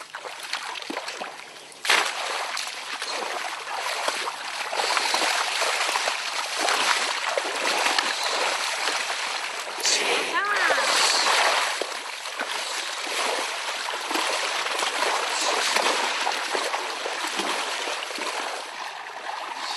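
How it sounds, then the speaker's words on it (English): A buffalo pulls a harrow through a flooded paddy field, churning water in continuous sloshing and splashing at moderate distance with a few sharper splashes. "a time that requires all of its might to pull the harrow, to level the flooded paddy field"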